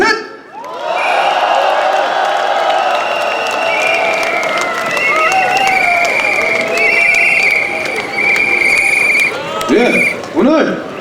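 Applause and cheering from a crowd at a disability rights rally as a banner calling for an anti-discrimination law is lowered, a dense sustained wash of clapping and shouts with high whistles and voices mixed in.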